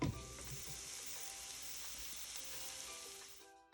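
Grapeseed oil sizzles steadily in a frying pan, a loud continuous hiss that holds evenly for a few seconds before fading, with no voices over it.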